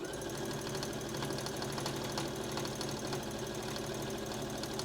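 A sewing machine runs a steady, unbroken edge stitch along a skirt pocket, its rapid needle rhythm close and constant throughout.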